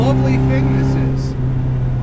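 A supercharged left-hand-drive 1967 MGB GT engine accelerating from 3,500 RPM, a steady mid-pitched drone with strong harmonics, loud and close, with someone talking over it.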